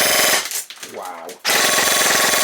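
An Specna Arms SAJ05 AK airsoft gun fires full auto in two loud, rapid buzzing bursts, near and dense, separated by a short gap of quieter mechanical sound.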